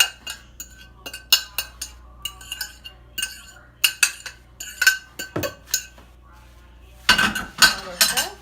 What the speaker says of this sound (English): I'm just gonna mix everything up nicely